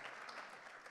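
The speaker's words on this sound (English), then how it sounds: "clap for my friend and my colleague, Dr. Griffith" Audience applause at a keynote speech, a dense steady wash of many hands clapping throughout, fairly distant and even in level with no voices over it.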